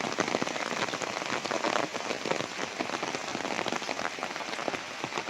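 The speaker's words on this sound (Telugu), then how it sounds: "మామూలుగా వాన మాత్రం కుమ్మేస్తుంది అయ్యా ఇక్కడ" Heavy rain pours down at Yana caves in Uttara Karnataka, a dense, steady hiss of drops hitting surfaces close by, loud and continuous with no voices.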